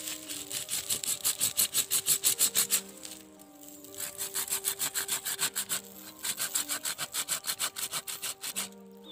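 A hand saw cuts through rukem wood gathered as bonsai material, with steady, close back-and-forth strokes in three runs separated by short pauses.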